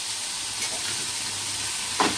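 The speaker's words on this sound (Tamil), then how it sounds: "இங்கே பாருங்கள் பீன்ஸ் பொரியல் அக்கா பண்ணிகிட்ருக்காங்க" Green beans stir-fry in a pan for beans poriyal, giving a brief, continuous hissing sizzle with a soft scrape or stir near the end.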